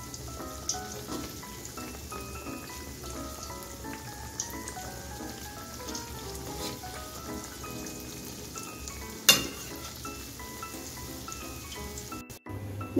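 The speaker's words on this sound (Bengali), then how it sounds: "এখন আমি গ্যাসটা লোতে রেখে আমি ভেজে নেব" Khasta goja pastries deep-fry in hot oil over a low flame, a dense crackling patter of bubbling with scattered pops and one sharp clatter near the end, no talking.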